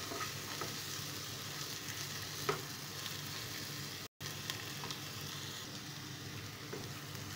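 Spices with red chilli powder fry in hot oil, giving a steady, dense sizzle with faint stirring scrapes throughout and one very short gap partway through.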